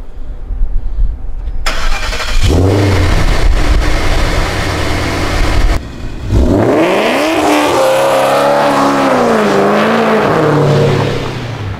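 A 2011 Ford Mustang engine cranks and catches, then revs hard in a loud, close burst. After a short break the engine revs again in rising and falling sweeps.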